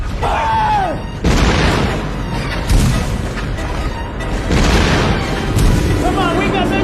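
Gunfire and heavy booms from a naval battle in a World War II Atlantic convoy film, with repeated loud blasts over a dense rumbling background and shouted voices mixed in.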